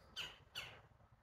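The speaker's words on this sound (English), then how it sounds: "Listen to the birds chirp." Outdoors on a sunny day, a bird gives two quick, harsh calls about half a second apart, faint and distant over low background noise.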